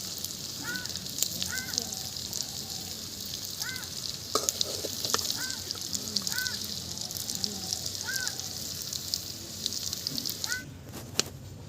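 Fried bot (tripe) and potato pieces are lifted from hot oil in a karahi amid a continuous sizzle, with scattered utensil clicks and recurring squeaky tones in the background.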